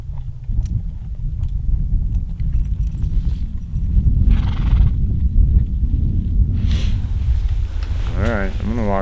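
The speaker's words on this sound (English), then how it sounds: "I'm gonna walk my horse down this hill" Horse on a backcountry hunting trip in British Columbia walking down a hill, steady low hoof thuds and rustling under continuous movement noise, with a brief whinny-like sound near the end.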